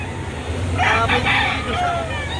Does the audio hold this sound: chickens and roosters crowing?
yes